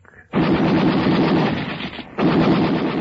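Gunfire sound effect from a vintage radio drama: a loud, dense, continuous roar of shots starts abruptly, dips briefly, then resumes at full force, with no voices over it.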